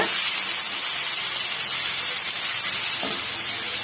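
Chopped ripe tomatoes, two medium-sized, dropped into a hot sautéing pan for a chutney give a steady, close, broadband sizzle and hiss that holds evenly throughout, with a brief faint clatter near the end.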